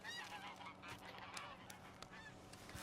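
A flock of geese honks in a Red Dead Redemption 2 hunting area, a scattered chorus of nasal calls, faint and distant against low background noise, with no speech.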